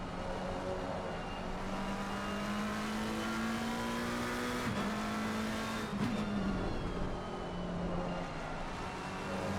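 Race cars including a Ford Mustang howl around Monza in Assetto Corsa Competizione, a steady close engine drone with harmonic pitch slowly rising and a brief gearshift dip midway, no voices.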